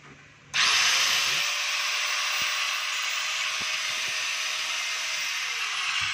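A DeWalt DWE8100S 4-inch angle grinder, just repaired, starts with a sharp jump and runs at a steady, loud, high whine for several seconds. No one speaks.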